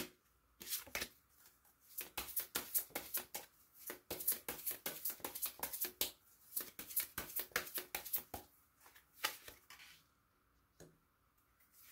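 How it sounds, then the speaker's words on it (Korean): Tarot cards are shuffled and drawn by hand close up, with rapid bursts of riffling and slapping card sounds broken by short pauses, quiet and crisp. "카드를 먼저 뽑아보도록 할게요"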